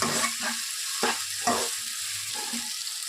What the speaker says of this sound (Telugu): గ్రేవీ అంతా బాగా చిక్కగా వచ్చేంత వరకు ఫ్రై చేసుకోవాలి